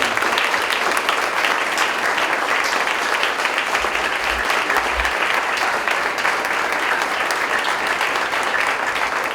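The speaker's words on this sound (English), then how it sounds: "I want to give a big round of applause to the student athletes." A crowd at a school athletics sports night applauds student athletes: sustained, even clapping from many hands, loud and continuous throughout with no talking over it.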